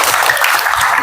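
A burst of steady clapping from a group, dense and fairly loud, lasting about a second.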